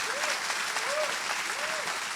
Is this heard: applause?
yes